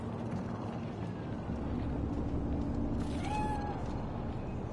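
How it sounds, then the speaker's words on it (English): A cat in the Cyberpunk 2077 game world gives a short, faint meow over a steady bed of ambient city hum. "It's a cat like any other."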